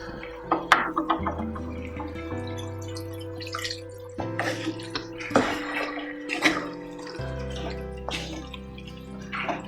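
Water splashes and trickles into a pot of cooking country-chicken gravy in uneven bursts, with steady background music playing underneath.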